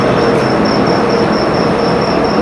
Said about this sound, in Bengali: চেক আউট করছিলাম, আসলাম ট্রেন স্টেশনে